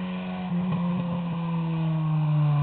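A 2002 VW Jetta 2.0 with an aftermarket exhaust passes close by, a steady droning engine note rising slightly in loudness as it approaches.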